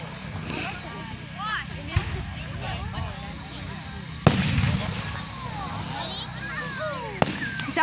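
Fireworks at a June 2024 display pop in a few sharp, distinct bangs, one louder blast near the middle, while nearby adults and children keep chattering and exclaiming throughout.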